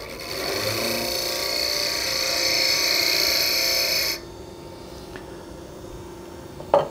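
A woodturning tool cuts timber on a lathe, a steady scraping, whirring cut for about four seconds that stops abruptly, leaving a quiet hum and a brief knock near the end.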